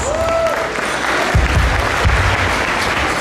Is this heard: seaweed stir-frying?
no